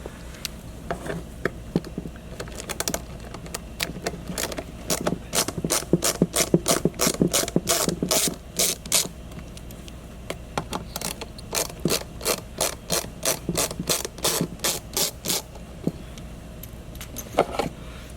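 A ratchet clicks steadily in quick bursts as T20 Torx screws come out of the mass air meter on an L5P Duramax air box, with pauses between screws and the clicks sharp and close.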